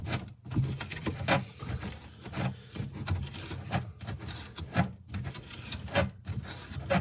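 Small knife scraping to bevel the top edge of a cut during a kitchen sink installation, making short, repeated rasping scrapes close by in an irregular rhythm.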